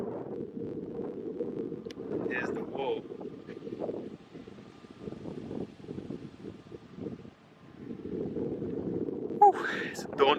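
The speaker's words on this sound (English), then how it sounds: "It's very, very windy though." Gusty wind buffets the microphone in low, uneven rushes throughout at a large reservoir lake in Spain while a person speaks briefly.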